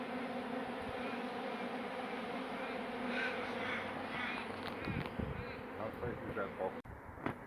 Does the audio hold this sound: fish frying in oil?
no